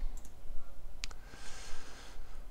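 A computer mouse clicks sharply once, with a quick second click just after, close and alone over a faint hiss during Linux Mint desktop panel editing.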